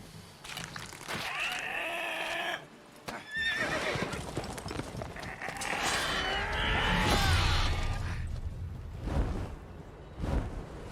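A horse neighs loudly several times in The Witcher 3: Wild Hunt, with hoofbeats and snorts around the whinnies, close and prominent.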